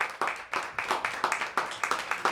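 An audience clapping for the poets at a poetry slam: a crowd claps in a steady, even rhythm of repeated sharp bursts, with some speech mixed in.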